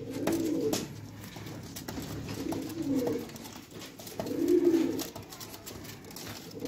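Modern White fancy pigeon cooing close by in three rounded, throaty bursts spaced a couple of seconds apart, over light background noise with no talk.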